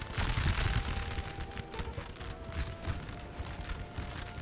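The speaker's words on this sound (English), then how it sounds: "And now we're shooting proper fire from the walls." Musket volleys crack from fortress walls in a Napoleon: Total War battle, dense overlapping shots rolling in a ragged fusillade over a steady low rumble.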